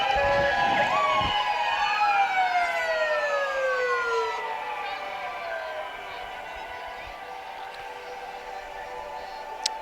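Fire department brush and attack trucks roll by in a Christmas parade, their wailing sirens sweeping up and down loudly at first, then fading as they pass, with steady road noise underneath.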